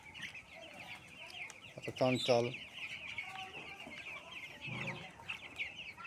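Chickens on a poultry farm clucking and squawking nearby in bursts, with a short rooster-like call in the middle and a brief word spoken over the birds.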